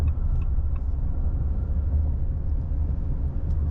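A 2025 Ram 2500 Cummins diesel pickup cruises at 55 mph in eighth gear. A low, even engine and road rumble fills the cab without a break, and a few faint ticks sit above it.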